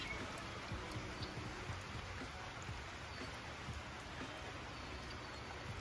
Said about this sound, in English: I got this stuff out here in the rain